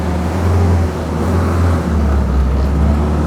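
A WW2 Jeep engine idling and running steadily as it backs out on a cold day, a close, loud low rumble with no talk.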